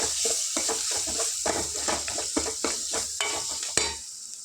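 Green chillies fry with turmeric in a pan while a spoon stirs them, giving repeated scraping and clinking strokes over a continuous close sizzle.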